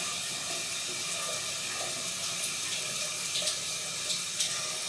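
Shower water sprays steadily onto an iPhone case in a Lunatik Taktik Extreme housing, imitating rain during a water resistance test, a continuous close hiss with no talking.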